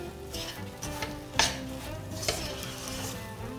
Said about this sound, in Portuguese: mexendo sempre para não grudar